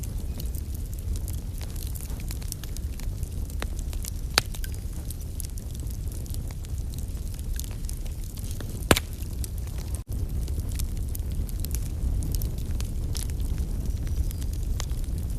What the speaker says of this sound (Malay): bergerak di dalam api yang menyakitkan